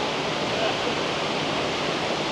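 Tumpak Sewu waterfall roars as a steady, dense wash of falling water, loud and continuous with no breaks.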